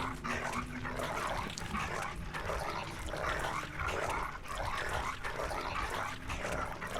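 Dog in a video game barking and whimpering, a run of short repeated yips and whines at close range over a busy background, no talk.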